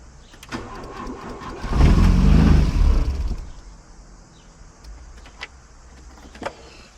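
A Volkswagen Golf 1 GLI engine cranks and catches with a loud, rough surge lasting about two seconds, then settles into a quieter, steady idle. A few sharp clicks follow; no one speaks.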